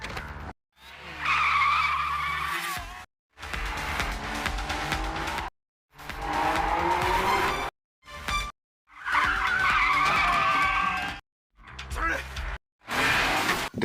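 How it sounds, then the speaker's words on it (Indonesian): Cars skid and squeal their tires in a chase scene from a film, in a series of loud bursts of engine roar and screeching. Brief silent gaps separate the bursts. "terjadilah kejar-kejaran dengan beberapa mobil"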